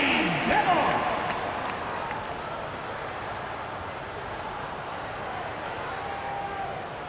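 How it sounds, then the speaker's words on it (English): Arena crowd in NBA 2K25 applauding and cheering, a dense continuous roar that swells briefly at the start and then holds steady, with no speech. "Let's hear another round of applause for your Spurs Hype Squad dance team"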